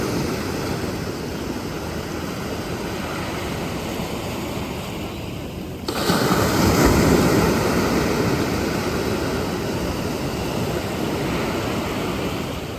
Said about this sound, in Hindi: ये पानी की आवाज़ सुनो यार।